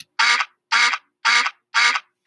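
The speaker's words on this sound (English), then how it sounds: "start the sound, duck." Four loud, evenly spaced duck quacks from a Scratch sound effect, each a short raspy burst separated by brief silences, close and clear with nothing else around them.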